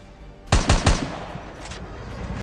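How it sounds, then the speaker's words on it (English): Three quick automatic gunshots ring out in Call of Duty Mobile as bullets are fired into the air, sharp and loud, followed by fainter distant shots and a low ambient hum. "pretend you're a bot or a noob by shooting bullets in the air"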